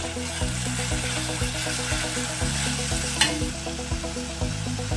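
Ginger-garlic paste and a large tomato sizzle and fry in a pan for chole bhature, a steady close crackle with scraping stirs and a brief clink, no voices.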